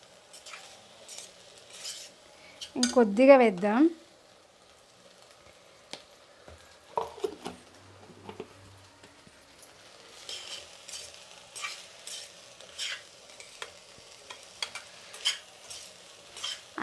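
Peanut powder tempering with chillies frying in a pan, soft sizzle broken by stirring and scraping of a utensil against the metal, quiet and close, with a short spoken phrase.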